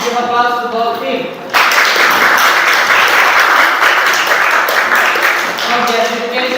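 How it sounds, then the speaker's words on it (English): Debate audience breaks into loud, sustained applause for both teams after the final reply speech, the clapping starting abruptly and carrying on steadily to the end, with speaking voices heard briefly before and after. "Give applause to both teams."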